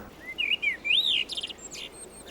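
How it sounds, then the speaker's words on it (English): A blackbird sings a varied, fluting phrase of rising and falling whistles followed by a few quick chirps, clear and close against a quiet background. "Sound of a blackbird."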